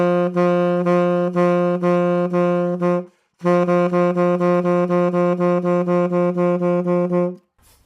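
Saxophone tonguing diminution exercise, a steady low note tongued in evenly spaced repeated pulses that speed up gradually, played twice with a short pause between, clear and alone.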